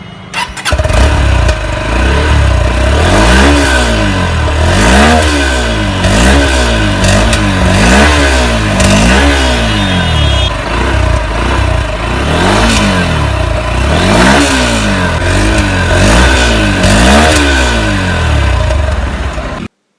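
A Honda X-Blade motorcycle starts and revs repeatedly, its engine note rising and falling in regular bursts, loud and close throughout.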